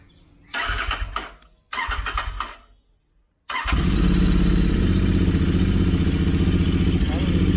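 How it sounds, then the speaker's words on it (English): A Royal Enfield Interceptor 650 fitted with a Powerage slip-on exhaust cranks twice briefly, then fires up on the third try and settles into a loud, steady, throbbing idle. "Now it's time to start the bike."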